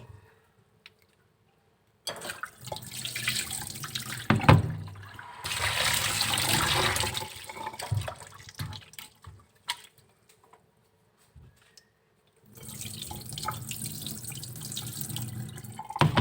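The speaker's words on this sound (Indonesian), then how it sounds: "Ini ikan terinya agak asin, jadi kita cuci dulu sampai 3 kali." Salted anchovies rinsed under running tap water, a splashing wash with pauses between rounds, fairly close and moderately loud.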